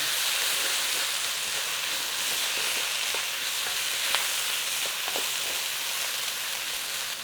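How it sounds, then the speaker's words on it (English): Tomato paste sizzling in a hot pan for a cottage pie, a steady soft crackling hiss with occasional small pops and faint stirring, close by and without talk. "I'm going to be heating this up with a couple of tablespoons of tomato paste, tomato puree in there."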